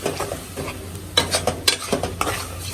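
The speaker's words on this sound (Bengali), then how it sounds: "যে পেস্টটা করেছি সেটা দিয়ে দিচ্ছি। এটা এখানে কষিয়ে ফেলবো।" A spice paste sautés in a pan under a low, continuous sizzle, broken by several sharp scraping and clinking strokes of a utensil against the metal, close by and with no one speaking.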